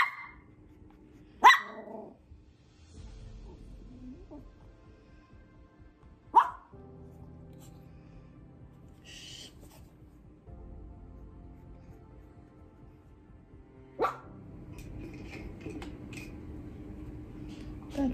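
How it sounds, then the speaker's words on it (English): A dog barks at another dog nearby during a cold outdoor live watercolor painting session, giving a few sharp isolated barks spaced seconds apart over low background rumble and faint growling. "So he's barking at that dog."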